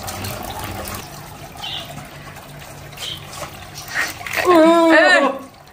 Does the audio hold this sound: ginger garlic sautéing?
no